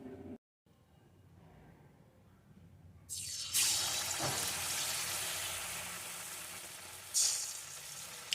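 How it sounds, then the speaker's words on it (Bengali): Batter-coated pitha balls made with milk kheer drop into hot oil, and a loud, bright sizzle and crackle rises abruptly and keeps frying steadily, with a second surge of sizzling near the end. "এখন ওই বলগুলিকে এই ব্যাটারটির মধ্যে দেব আর এইভাবে মাখিয়ে নিয়ে তেলের মধ্যে দিয়ে ভেজে নেব"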